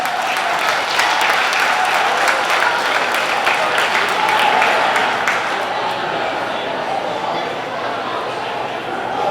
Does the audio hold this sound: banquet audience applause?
yes